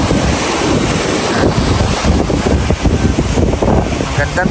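Sea waves wash onto a long beach shoreline with rock formations and coconut palms in Quezon, carried on steady strong wind buffeting the microphone, a continuous loud roar of surf and gusts with no talk.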